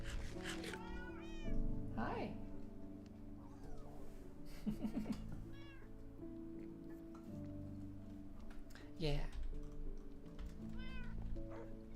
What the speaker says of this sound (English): I do have a cat meowing.